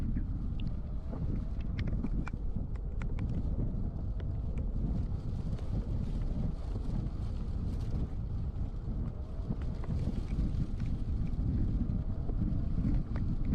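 Hurricane Beryl's winds gusting at landfall on the Texas coast, a constant heavy roar of wind buffeting the microphone with rumbling low gusts and occasional faint knocks, no voices.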